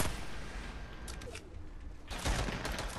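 Gunfire in Fortnite, a steady wash of distant shots with a louder burst near the end, game noise throughout.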